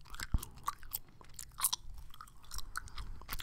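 Gum chewed close to the microphone for ASMR, with a steady run of soft wet smacks and sharp crisp clicks, intimate and fairly quiet, with no talking.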